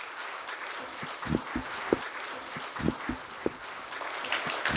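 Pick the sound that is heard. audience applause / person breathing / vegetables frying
audience applause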